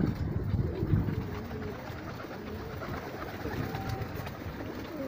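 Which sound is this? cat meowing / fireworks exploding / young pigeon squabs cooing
young pigeon squabs cooing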